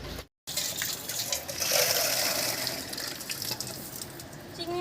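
Tap water runs while prawns are washed before cutting. A steady gushing stream, close and fairly loud, follows a brief cutoff at the start and carries on to the end.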